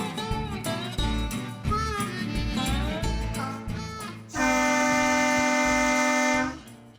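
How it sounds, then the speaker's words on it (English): A long, loud steady blast of the Abilene and Smoky Valley Railroad train horn sounds as it departs, coming in after a few seconds of muddled background chatter and noise and holding for about two seconds before cutting off. "I think we need to get on the train and take it down the track."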